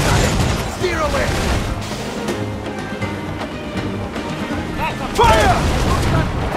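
Cannon fire from a ship's broadside in the Assassin's Creed IV Black Flag Freedom Cry naval battle: repeated booming blasts roll under a busy battle din, with crew voices shouting throughout.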